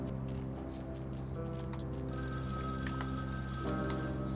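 A telephone rings in the video game Vampire: The Masquerade – Bloodlines, with a steady, sustained electronic ring starting midway and continuing over a low ambient hum.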